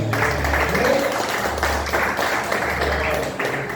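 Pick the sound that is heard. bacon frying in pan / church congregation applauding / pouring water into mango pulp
church congregation applauding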